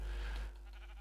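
A single short bleat of a sheep in Minecraft, brief and fairly faint, followed by a moment of quieter tone.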